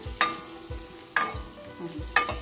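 Chillies sizzle and crackle in hot oil, with three sharp scraping stirs of a spoon in the pan at roughly even intervals.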